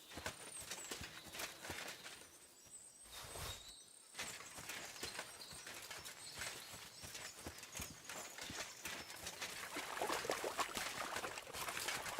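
Horses in the medieval video game Kingdom Come: Deliverance 2 clop and shuffle quietly around a fortress stable, with irregular hoof knocks, soft rustling and faint trickling ambience at low volume.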